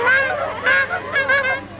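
Several people imitate a bicycle horn by breathing through a cupped hand, giving three or four close, nasal honks in quick succession, like squeezed rubber-bulb horns, with no talk over them.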